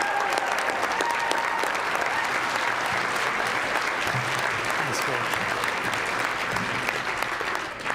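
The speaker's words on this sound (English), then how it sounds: "Can we give every one of those kids one more round of applause?" An audience at a Boys & Girls Clubs of South Puget Sound awards evening gives a sustained, dense round of applause for the kids, steady and loud from start to finish with no voices rising above it.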